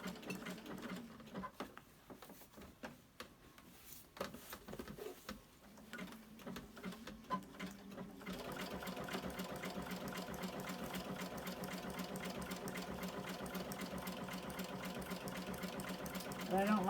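A sewing machine stitches an angled zigzag embroidery stitch on a hen quilt block. Quiet handling and rustling come first, then the motor settles into a steady, continuous stitching run that lasts to the end.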